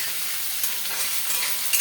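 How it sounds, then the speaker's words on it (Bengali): Potatoes frying in oil in a pan, a dense steady close sizzle with faint stirring scrapes and small crackles, no voices. "আলু আমার ভাজা হয়ে গেছে।"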